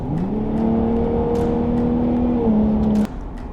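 A truck engine with exhaust in Baja mode revs up and holds a loud, steady exhaust drone, dipping slightly before cutting off near the end.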